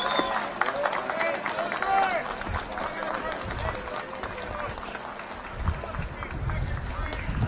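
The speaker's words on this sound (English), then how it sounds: "Ladies and gentlemen, a huge round of applause for Gene McIntyre." Crowd applauding at an Army men's rugby match against Guelph University, a broad outdoor wash of clapping and murmuring voices with people talking throughout.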